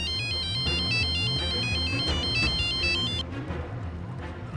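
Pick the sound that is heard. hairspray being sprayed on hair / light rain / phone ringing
phone ringing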